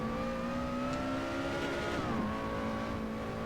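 Lotus Exige engine in the Assetto Corsa racing game, a steady droning tone under load that dips as revs fall near the end, heard without talk.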